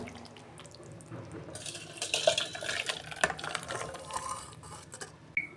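Cooked cauliflower and pomfret fish curry being poured from a pan, giving a soft wet, sloshing pour with splashy bursts in the middle, fairly quiet and close with no talk.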